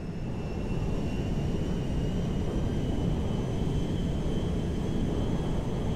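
A cargo jet in Grand Theft Auto V flies with a steady, loud, continuous engine roar and rumble that stays constant throughout, with no voices.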